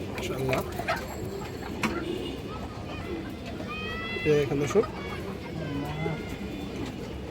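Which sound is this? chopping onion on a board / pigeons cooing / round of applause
pigeons cooing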